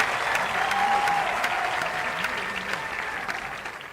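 A large crowd applauds loudly at the Khelo India University Games 2022 opening ceremony, the dense clapping holding steady and slowly easing over a few seconds, with faint tonal sounds in the background.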